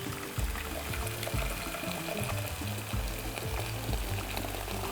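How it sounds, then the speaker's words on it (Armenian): Boiled water poured into a pot for a cabbage and spiral pasta bake, a steady close splashing stream running continuously throughout with a low rumbling fill. "Եռացած ջուր ենք լցնում։"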